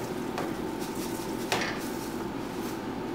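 A spoon stirs cornmeal cooking in a pot for Haitian mais moulin, giving a steady scraping, clattering texture with a couple of sharper knocks against the pot's side.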